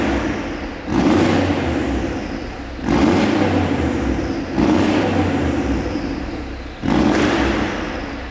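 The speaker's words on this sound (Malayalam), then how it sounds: "ഇന്നോടെക്കിൻ്റെ ഒരു അടിപൊളി എക്സോസ്റ്റ് ഉണ്ട്. അടിച്ച് സ്റ്റാർട്ടായി കഴിഞ്ഞാൽ ഈ ഷോറൂം കുലുങ്ങും." A Mercedes G-Wagon with an aftermarket Innotech exhaust revs inside a showroom. Four loud, close throttle blips each surge sharply and then sag back toward a rumbling idle, with no talking.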